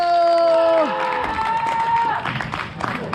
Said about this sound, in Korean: 고대 농구리그 드래프트를 여러분들의 큰 박수와 함께 시작하도록 하겠습니다.